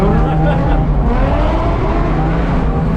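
A Mazda Miata drifting at Piedmont Drift, its engine rumbling loud and continuous with shifting harmonic drone as the car is thrown through a slide, heard from inside the car.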